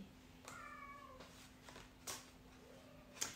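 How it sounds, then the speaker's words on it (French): A cat meows faintly a couple of times, drawn-out and plaintive, against a quiet background with a steady hum. "Tu l'entends, le chat?"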